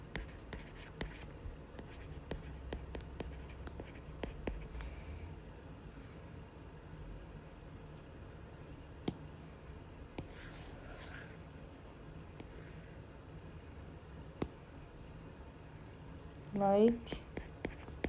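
Pencil scratches softly as answers are written by hand on a worksheet, the faint strokes coming in scattered bursts beneath a teacher's occasional speech.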